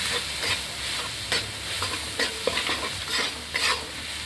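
Mashed potatoes with chopped coriander sautéed in a pan, with a low constant frying hiss and intermittent scrapes of a spatula at a moderate, unhurried pace, nearby and without speech.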